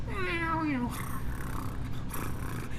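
A pet cat lets out one drawn-out, downward-sliding meow near the start. The meow is close and clear, and quiet room noise and soft rustling follow it.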